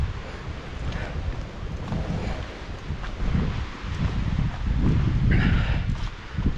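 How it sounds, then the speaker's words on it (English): Wind gusting across a high mountain hiking trail on the Elkhorn Crest in the Blue Mountains, a steady low buffeting roar that swells and surges in uneven waves and rumbles against the microphone. "You can probably hear the wind,"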